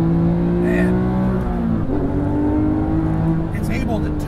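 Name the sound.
Porsche GT museum car driven at speed on a track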